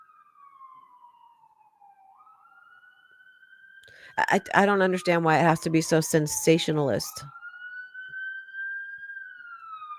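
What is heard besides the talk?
siren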